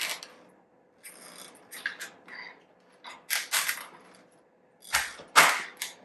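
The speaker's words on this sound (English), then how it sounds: "that took a bit of effort to get through" A knife cutting through a fennel bulb, giving a handful of separate crisp crunching, snapping cuts with short quiet gaps between them, close and sharp, with no voices.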